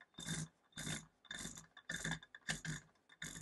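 Stand of a GOCHIFIX DM9 7-inch LCD digital microscope being lowered after a nut is loosened, giving six short, evenly spaced scraping rasps, close and faint.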